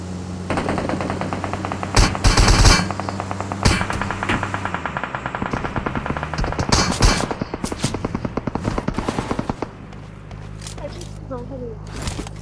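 Rapid bursts of automatic gunfire in a video game rattle loudly and repeatedly for about ten seconds, with voices talking over the shooting before it thins out near the end.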